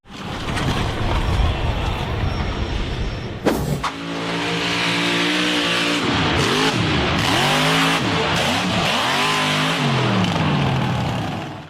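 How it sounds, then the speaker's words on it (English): A red and white off-road buggy's engine revs hard at full throttle climbing a very steep sand hill, pitch climbing and wavering as it strains, with a sharp crack midway and a sustained roar. "The red and white KFC buggy went full throttle in an attempt to climb the extremely steep sand hill"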